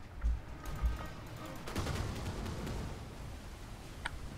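Gunfire from a combat skirmish in the strategy game Anno 2070: a short burst of rapid game shots followed by sustained crackling fire, moderately loud with a faint voice in the background.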